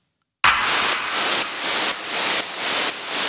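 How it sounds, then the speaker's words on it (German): White noise layered with a clap sample in an EDM production, a steady broadband hiss that ducks rhythmically in a sidechain pump, swelling and dipping about every half second after a short silent start. "Also unser Rauschen und der Clap zusammen machen dann Folgendes."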